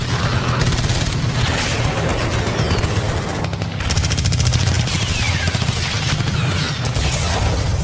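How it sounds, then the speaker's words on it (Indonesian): Dense, continuous barrage of grenade launcher blasts and rapid gunfire striking a police headquarters roof at night, loud and rumbling throughout, with booming low impacts layered under crackling bursts and no voices. "Suara ledakan senjata pelontar menggema, menghantam atap markas polisi dan memecah kesunyian malam."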